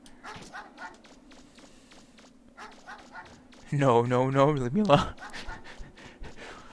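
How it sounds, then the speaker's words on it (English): In the Megaman Legends video game, an attacking dog pants and yelps, with quick running footsteps. Someone talks over it and lets out a louder strained cry partway through. "I'll run around and make the annoying barking sound"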